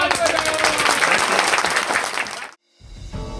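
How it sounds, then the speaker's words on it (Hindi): Vigorous applause from a crowd at a Congress party gathering in Mahasamund district, Chhattisgarh, welcoming a senior minister, loud and dense for two and a half seconds, then a sudden cut and a softer tail. "अनुरोध करूंगा जोरदार तालियां बजाएं"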